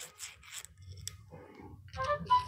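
A hand file rasping across the corners of a metal bolt held in a hand vise, several short scraping strokes close by with brief gaps between them.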